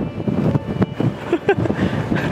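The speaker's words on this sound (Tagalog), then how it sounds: "Lakas pala lang hangin dito." Strong wind buffets the microphone in gusty, rumbling bursts, with faint voices and background noise beneath.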